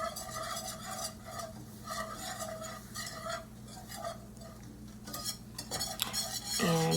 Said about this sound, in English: after the mix is put in the pan with the butter, I'm just gonna whisk it together to get it all incorporated